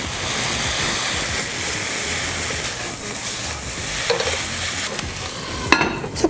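Bean sprouts are stir-fried with pufferfish in a hot pan, giving a dense, loud, continuous sizzle with stirring and a few sharper clatters near the end.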